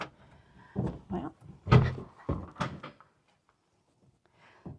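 A door opening into a two-car garage of a home on a 21-acre property in Ellijay, Georgia, giving a short series of fairly loud clunks and rattles over about two seconds, then falling quiet.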